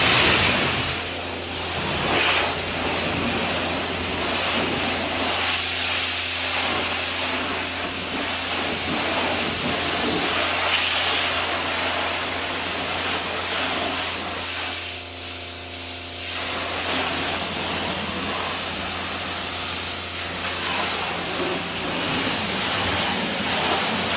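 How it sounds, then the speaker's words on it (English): A pressure washer blasting chemical cleaner off a car in bug stain removal, a loud continuous close hiss of spray that wavers slightly as the nozzle moves, running for the whole stretch with no talking. "I'm gonna step over here and get the pressure washer. And I'm gonna pressure wash this"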